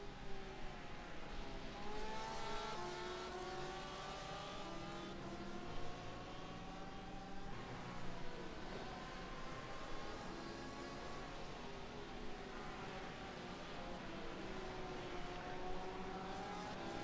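Two Porsche race cars battle on the Nürburgring Grand Prix circuit in a racing video game, their engines droning with rising and falling whines that overlap at a moderate, steady level.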